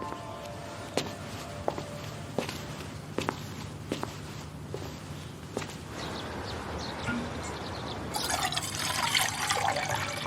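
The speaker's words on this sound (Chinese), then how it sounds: "我去给你倒水。" Water poured into a glass in a quiet room, a rising trickling fill near the end, preceded by footsteps and small clinks as someone moves about.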